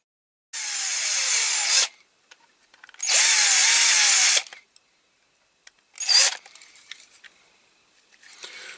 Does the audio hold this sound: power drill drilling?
yes